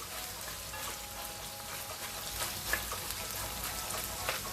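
A steady, gentle sizzle comes from a pan over medium heat during a quick sauté for Brazilian moqueca baiana, with a few small spoon clicks and no talking.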